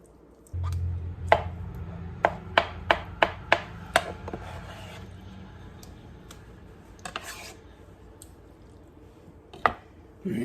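A knife cuts tomatoes for canning on a board in a steady run of crisp, close chops. It pauses, then a few scattered cuts follow in a quiet kitchen, with a low hum early on.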